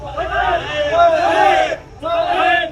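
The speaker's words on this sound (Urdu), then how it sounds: "وہ تاجدار ختم نبوت لبیک یا رسول اللہ اس طرح کے وہ نعرے لگا رہے ہیں" Large crowd at a political-religious rally loudly chanting religious slogans in unison, two rhythmic shouted phrases separated by a short gap.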